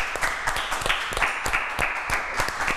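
An audience at the Miss Mister Jeunesse Guadeloupe pageant applauds a departing contestant, with loose, uneven bursts of clapping from a fairly close crowd.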